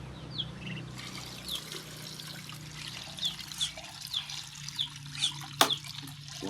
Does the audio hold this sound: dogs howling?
no